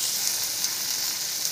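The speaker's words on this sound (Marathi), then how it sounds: "अगोदर फ्राय केलेली भेंडी" Previously fried okra (bhindi) tossed back into a hot pan, giving a dense, even sizzle close by, steady throughout with no voices.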